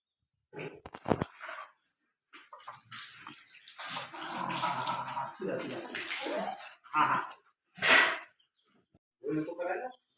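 A pet dog is washed with water during a bath in a village. Splashing and pouring come in bursts, with faint dog noises mixed under steady nearby talking.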